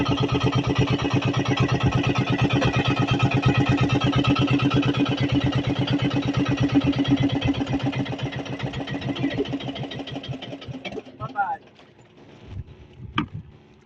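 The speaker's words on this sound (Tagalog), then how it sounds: "Namatay yung makina." A boat engine chugs steadily, then sputters and dies, leaving quiet with a few clunks and knocks.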